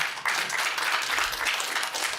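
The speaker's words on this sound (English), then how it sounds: "Excuse me, I know everyone's enthusiastic, but please hold your applause." Audience applause fills a city council voting meeting, a dense, steady wash of many hands clapping that starts abruptly and holds at an even, fairly loud level throughout.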